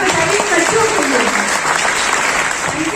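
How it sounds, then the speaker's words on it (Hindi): An audience at an international holistic parenting conference claps loudly for the children: a dense, sustained burst of applause filling the room for about three seconds, with no voices over it. "तो आप सब जोरदार तालियां बजाइए बच्चों के लिए"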